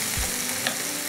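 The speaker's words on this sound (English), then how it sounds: "And mash them using the back of your spoon." Tomatoes being pressed and mashed with the back of a spoon in a hot pan, a steady close sizzle running throughout with a soft scraping stroke near the start and a brief clink partway through.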